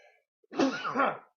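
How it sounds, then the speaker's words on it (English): A single short, explosive sneeze from a man with a cold bursts out close and fairly loud after a brief silence. "let me sneeze"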